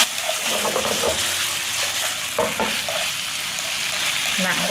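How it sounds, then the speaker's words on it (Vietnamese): Beef stir-fried quickly over high heat in a pan gives a continuous sizzle and hiss with scraping stirring, close up, while a voice talks faintly over it. "Cái này để lửa lớn và xào nhanh tay dùm em."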